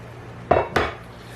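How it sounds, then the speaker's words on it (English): A cooking pot in a home kitchen is handled, giving two quick close metallic clanks about a quarter second apart, each ringing briefly before fading. "I'm using this pot."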